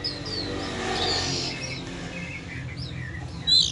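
Young oriental magpie-robin chicks give thin, high chirps and short squeaky calls, scattered and fairly faint over quiet background noise, with one sharper, louder chirp near the end and no talking.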